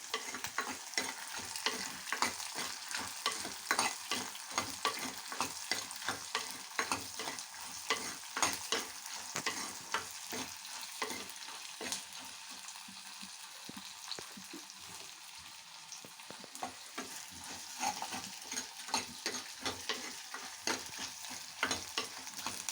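Ingredients sauté in a pan until golden for vathal kuzhambu, a faint, steady sizzle broken by repeated scraping stir strokes in an irregular rhythm, with no talking.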